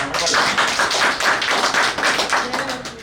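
A crowd at a political party joining event claps in a rhythmic, even beat, loud and close, with a faint voice underneath.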